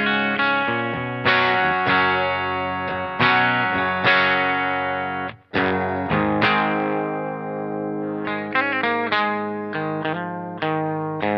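An electric guitar with a clean tone, played through a Phenyx Pro PTG-12 wireless guitar system: loud, ringing chords and picked notes with sustain and a brief pause midway, played alone with no talk.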